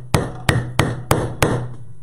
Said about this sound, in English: I'm going to hammer these down real quick.